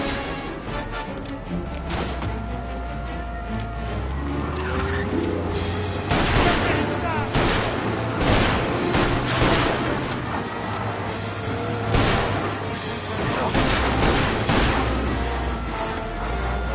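A gunfight near a church in the game Mafia Definitive Edition, with dense bursts of rapid gunfire and sharp cracks rolling on over a low rumble, loud and close, with voices shouting now and then.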